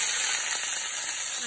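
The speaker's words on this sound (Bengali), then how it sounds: "জিরে আর রাঁধুনি ফোড়ন দিয়ে দিয়েছি" Cumin and radhuni tempering frying in hot oil before kuchia fish are added, a dense, continuous close sizzle with crackly spitting that stays strong throughout, with no voices.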